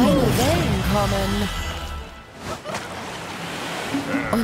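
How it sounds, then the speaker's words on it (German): Small cartoon ocean waves wash in at the seaside with a soft continuous surf hiss, mostly under a narrator's speech and a childlike voice. "Kleine Wellen kommen."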